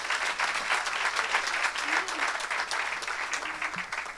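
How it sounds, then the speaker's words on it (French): A church congregation claps for Jesus, dense sustained applause from a crowd at moderate distance, with faint voices mixed in beneath the clapping. "Acclamez pour Jésus."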